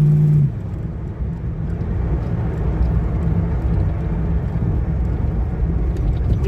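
A car engine drones low and steady while driving, with a slight lurch near the start, heard from inside over continuous road rumble.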